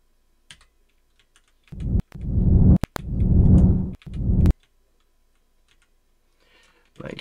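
Computer keyboard typing in three dense bursts of rapid key clicks with short pauses, close and clear, surrounded by near silence.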